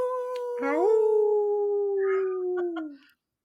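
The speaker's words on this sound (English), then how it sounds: "wolf howls in a vampire episode?" A single long, clear wolf howl, close and steady, rising at the start, then holding a sustained tone before trailing off and ending in silence.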